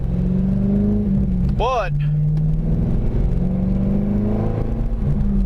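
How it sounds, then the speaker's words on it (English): Engine of a rear-wheel-drive manual car revving under a bridge, a steady loud drone with a sharp rising rev burst near the start, heard close up with a brief spoken word over it. "when I no longer need a rev next to a wall or under a bridge"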